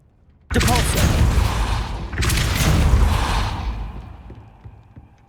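A Depulso spell blast from the Hogwarts Legacy game, a sudden loud whooshing burst that hits hard, swells again about two seconds later and then fades into a softer rumbling tail.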